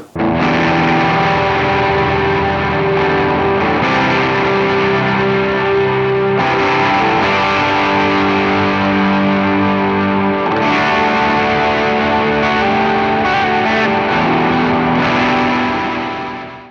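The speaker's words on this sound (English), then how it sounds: "Let me show you a guitar tone that sounds incredible by itself, but is a little too big for a band mix." Big, distorted electric guitar tone with chorus and echo effects, playing sustained chords loudly and continuously, full and wide, with no talk over it.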